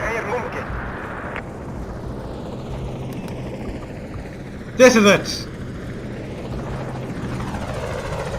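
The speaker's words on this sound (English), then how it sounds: "those American helicopters are just flying by us" American helicopters fly past in the video game Battlefield Iraq, a steady, droning rotor rumble that holds throughout beneath someone talking.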